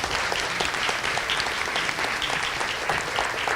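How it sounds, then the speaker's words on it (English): Sustained, dense applause from an audience at a fire department event honoring lifetime members, many hands clapping evenly and loudly for a few seconds with no speech. "Give them a round of applause."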